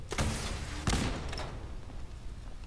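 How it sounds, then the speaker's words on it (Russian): Gunfire in the video game Fallout 4, two sharp loud bangs about two-thirds of a second apart, each with a short rumbling tail, in a quiet room. "Отличный выстрел, еще бы если попал."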